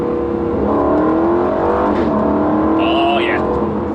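An Aston Martin Vantage engine with an AMG powerplant blips and rises in pitch after a downshift of a couple of gears, a loud, close, steady revving tone that climbs and swells with the exhaust valve open.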